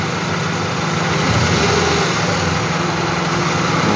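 A Honda Odyssey engine with a newly replaced starter runs steadily close by, a constant broadband hum with a faint low idle throb and slight rises in pitch as it is revved gently, with no talking.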